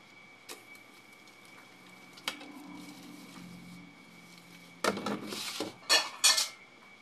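Plates and spoons clink and clatter close by during dishwashing in dim light, with scattered knocks early on and a burst of louder clanking toward the end.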